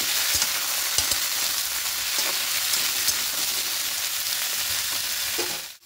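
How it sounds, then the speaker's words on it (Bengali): Mixed vegetables fry lightly in a little oil for a milk shukto, giving a dense, even sizzle like steady rain. Occasional stirring clicks come through before the sound fades out abruptly at the end. "সবজিগুলো হালকা করে ভেজে নিচ্ছি"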